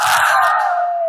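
A large crowd shouts Allahu Akbar together in one sustained, loud collective cry at a religious gathering, the voices swelling and then fading out.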